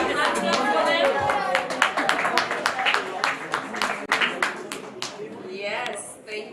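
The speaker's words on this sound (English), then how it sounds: "A hand clap for them." Applause for graduates at a graduation ceremony, a steady round of clapping from a crowd under a speaker's voice, fading toward the end.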